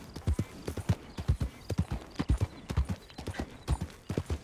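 Hooves of a chestnut Tennessee Walker horse clip-clop in a steady walking rhythm in Red Dead Redemption 2, close and clear, with faint background game ambience and no talk.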